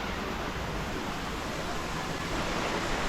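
Flowing creek water in the Ozarks, a steady, full rushing wash with no breaks, close and fairly loud, with no voices over it.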